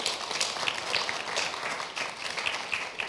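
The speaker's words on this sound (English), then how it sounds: "Should we give him a clap for that?" A church congregation claps together in a steady, moderately loud round of applause that fills the room for a few seconds, with only a faint voice underneath.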